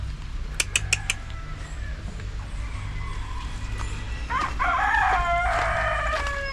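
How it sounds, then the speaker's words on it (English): Birds from India at an exotic bird park, giving a few sharp, loud calls early on and then a longer burst of harsh, crowing, fowl-like calling near the end over a low background hum. "Again, some birds from India."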